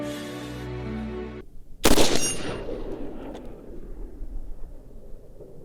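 A black powder gun fires once at close range with a sharp, loud blast that tails into a long rumbling decay, after a steady droning hum that cuts off just before the shot.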